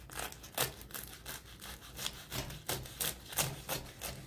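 Spinach-filled rolled filo pastry, still warm, cut with a knife: a run of about ten crisp crackling rasps, each short strike repeating at a steady rhythm, close and fairly loud with no talk.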